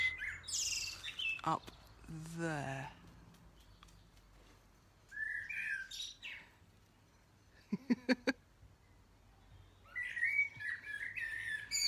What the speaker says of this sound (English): there's a blackbird singing his heart out